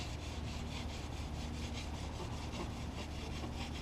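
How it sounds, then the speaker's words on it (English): A wooden hand drill spindle spins fast under heavy pressure to make friction fire, giving a steady, rapid rasping rub with an even back-and-forth rhythm, close and continuous with no talk. "once you know the spindle is going to stay in place, you can pick up a little speed"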